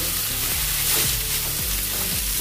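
Sliced onions fry over high heat in a pan for a chana dal and onion curry, giving a close, constant sizzle while a spoon scrapes and stirs through them in a few quick sweeps.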